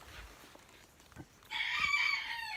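A chicken clucks and squawks loudly, breaking out suddenly after a quiet stretch with faint rustling.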